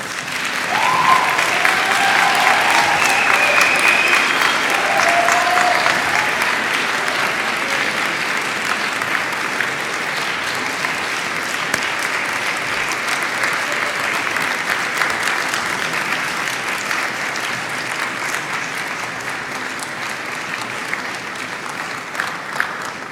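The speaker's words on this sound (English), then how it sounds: "give a round of applause to your families and friends to thank them for their love and support" Medical school graduates at the University of Vermont College of Medicine Class of 2016 commencement give a long, sustained round of applause, loud and dense at first and easing slightly as it continues, with no talking over it.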